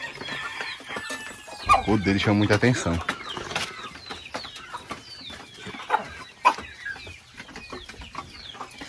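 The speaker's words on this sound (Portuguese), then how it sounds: "Os dois frangos estão aqui." Two young roosters kept in a pen give a loud burst of clucking and squawks early on, followed by scattered softer clucks, with a person talking over them.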